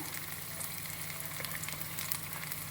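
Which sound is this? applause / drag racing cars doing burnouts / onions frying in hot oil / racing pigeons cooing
onions frying in hot oil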